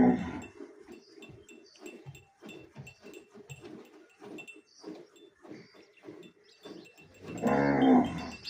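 A Cholistani Friesian cross cow, a dairy animal, lets out one loud, deep, close moo near the end, after several seconds of quieter, intermittent low sounds.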